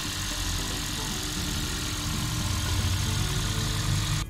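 A Toyota Aqua hybrid car that has just been started after a throttle body replacement idles steadily nearby, giving a constant low engine hum with no talk over it.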